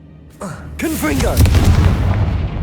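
A Confringo blasting spell explodes in Hogwarts Legacy, a loud burst followed by a rumbling, sustained blast, with a voice calling out over the start.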